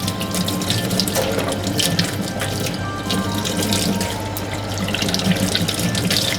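Tap water runs steadily into a sink as a freshly cleaned fish is rinsed, a constant close splashing hiss with no talk.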